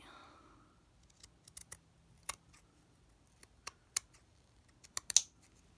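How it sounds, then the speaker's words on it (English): Scissors snip through fabric in sparse, sharp clicks and cuts, quiet and close, with a faint sound at the start and no talk. "We've got to get the scissors out and get cutting"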